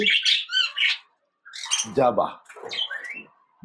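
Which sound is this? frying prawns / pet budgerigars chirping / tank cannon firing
pet budgerigars chirping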